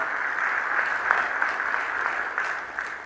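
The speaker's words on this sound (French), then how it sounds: "j'aimerais vous demander d'applaudir fortement ceux qui m'ont précédé à la tribune" A large audience at a speech event in Madagascar claps steadily and loudly, with dense applause holding at an even level throughout.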